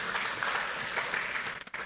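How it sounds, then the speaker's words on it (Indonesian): A church congregation at a Sunday worship service claps together, a dense, steady wash of applause that fades briefly near the end. "tepuk tangan yang terbaik"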